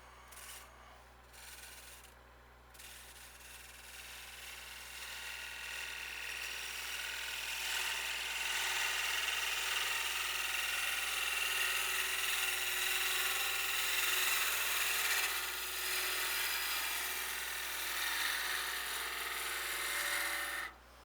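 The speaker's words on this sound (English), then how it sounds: "So I'm going to cut it with the gouge." Steady whirring hiss of a bowl gouge taking fine cuts from wood spinning on a lathe, rising after a short start and holding at an even level, close and continuous with no talking.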